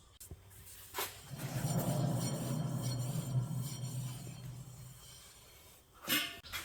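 A low, rough growl rises and holds for several seconds from a bad rear wheel bearing on a Honda Accord, with a few sharp knocks and scrapes around it.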